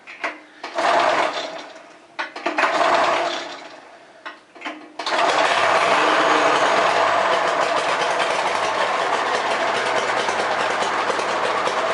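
A Polaris Dragster engine, just refuelled with gas, coughs through several short surging start attempts, then catches and runs at a loud, steady, buzzing pace for the rest of the stretch, close by.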